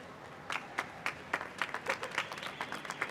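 Clapping at a school graduation ceremony for grades 6 to 12, heard as a thin, somewhat distant scatter of irregular claps from a few people in a large room, fairly quiet.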